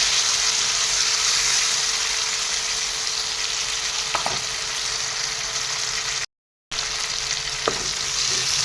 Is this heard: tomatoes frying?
yes